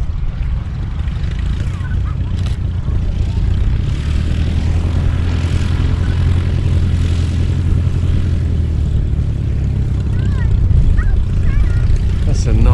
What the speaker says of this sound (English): Well, it's landed. It's going to taxi past us.